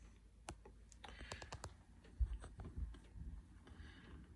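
A few quiet keyboard key presses, scattered clicks and taps at close range with faint background rustle.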